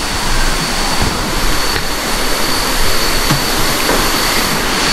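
Flowing stream at a campsite in Liliw, Laguna, a steady loud broadband rush of water filling the whole scene without pause, no voices over it.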